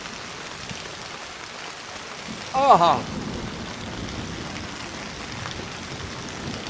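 Steady rainfall patters outdoors during a wet evening, forming a soft continuous wash with a brief louder burst partway through, while a voice speaks briefly.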